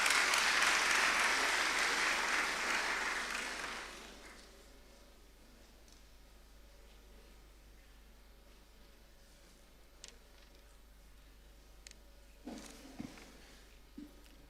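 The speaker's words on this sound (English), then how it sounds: "Let's welcome him with a round of applause." Audience at an education address in Ghana applauds loudly for about four seconds, then the clapping dies away into a quiet hall with a few faint knocks and shuffles.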